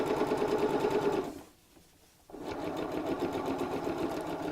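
A sewing machine stitches a purse lining with a fast, steady mechanical whirr, pausing briefly partway through before running on again, close and clear.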